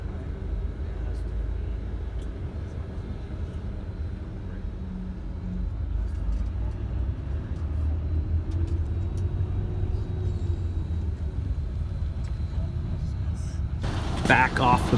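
Steady rumble and road roar from a bus driving along a highway in Tibet, heard from inside, with a constant low engine drone and a brief burst of rattling near the end.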